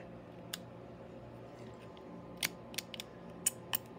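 Plastic flash is snipped off a Lindberg WWII German fighter model kit part with small cutters. One crisp click is followed by a cluster of sharp, quiet snips and ticks close to the mic over a low background hum, with no voices.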